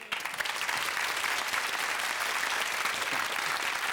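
Steady, even applause from an audience, dense and continuous throughout, heard at moderate distance with no voices over it.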